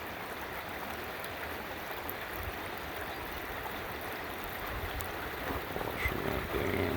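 Water steadily washes gravel and gold concentrates in a prospecting pan outdoors, a continuous close sloshing wash with a slight swell near the end and no talking.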